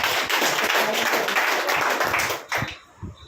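A crowd claps loudly together for a few seconds, steady and dense, then the applause trails off into a couple of scattered last claps.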